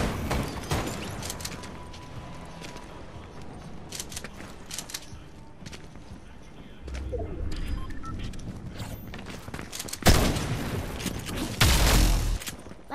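Gunfire in Fortnite (Chapter 5 Season 2): scattered shots through a busy game mix, then louder rapid bursts near the end, with a brief loud impact.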